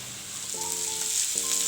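Sliced onion frying in a pan for a fish keema, a steady close sizzle with faint stirring throughout, partly overlaid by a tonal hum, with no talk.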